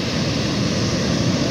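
Surf rolls in at Tondaligan Beach in Dagupan, Pangasinan, a loud, steady roar of breaking waves with no pauses and no voices.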